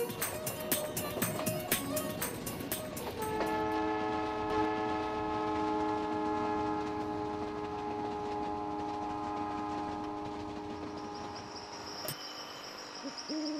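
The Palace on Wheels luxury train sounds a sustained, loud multi-tone horn while rolling along, following rapid clattering at the start and a steady rumble underneath.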